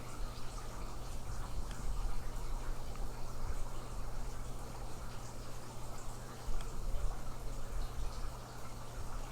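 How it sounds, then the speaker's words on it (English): Water trickles steadily in a backyard pool, a constant splashing wash with a low hum underneath, continuous and moderately loud for the whole stretch. "if you hear birds or the water, that's just from the pool"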